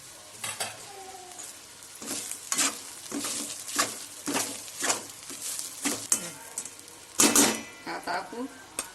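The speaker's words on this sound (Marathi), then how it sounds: "कांदे लाल झाले किसलेलं खोबरं टाकायचं आहे त्याला पण थोडं लाल होऊ दे" Sliced onions and grated coconut fry in a pan for a Khandesh-style patodya masala, a soft sizzle broken by repeated scraping stirs of a spoon, with a person talking over the cooking.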